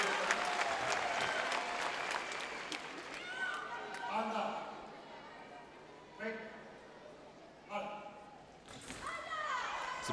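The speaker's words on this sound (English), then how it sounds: "the crowd are really getting behind the French fencer here" Spectators cheer and applaud at a women's sabre fencing World Cup final in Orléans in 2018: a sustained crowd roar that swells and falls, with a few sharp bursts, under a voice speaking.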